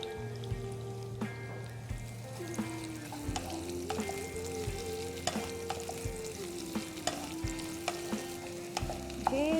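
About three to four small chopped onions fry with raisins in a pot of oil for a one-pot rice dish, giving a steady close sizzle broken by scraping stirs and clinks of a utensil against the pot.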